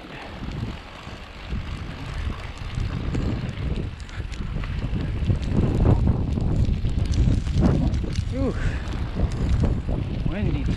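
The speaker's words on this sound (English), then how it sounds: "Windy too over here." Wind roars across the microphone on a rainy, muddy park trail beside a river, a loud, steady rumbling gust that builds over several seconds, with a person briefly exclaiming and footsteps faintly beneath.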